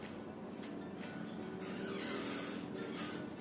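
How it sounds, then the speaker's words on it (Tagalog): Headlight lens protectant sprayed onto a car headlight, heard as a steady close hiss with a few short, brighter spray bursts. "ginagawa ko is tatlong spray per headlight"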